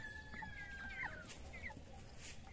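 Soft, distant clucking and a few squeaky calls from two turkeys and chickens drift over a noisy, hissy outdoor background.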